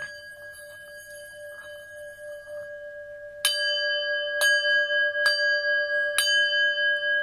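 A bell rings with a sustained tone, then four sharp, clear strikes follow at a steady pace, each leaving a bright ringing decay.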